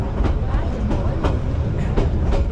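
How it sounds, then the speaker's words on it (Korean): A tourist train runs on rails through the countryside around Dalat, Vietnam, heard from on board as a continuous low rumble with rhythmic wheel clatter and periodic clicks, and faint voices in the background. "기차가 운치도 있고 뭐 좀 지루하긴 하지만 뭐 탈만한 건 좋은데 기차가 너무 빵빵거린다."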